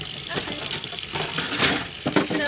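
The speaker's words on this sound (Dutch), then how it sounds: "Gewoon laten stromen de kraan." Kitchen tap left running into a sink while socks are rinsed by hand, a steady broadband splashing hiss with brief louder bursts as hands move under the stream, heard up close with occasional faint voices nearby.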